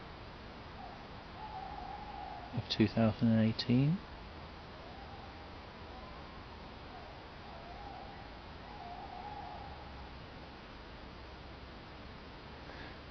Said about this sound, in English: I guess you can hear the owls in the background